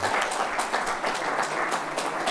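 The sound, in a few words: audience applause welcoming students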